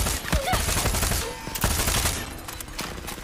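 Bursts of machine gun fire in the video game Far Cry 6, fast and dense and running almost without a break. Single shots crack loudly over a steady din of gunfire.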